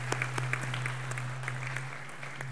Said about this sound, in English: I'd really like to give our awardees another round of applause for a job well done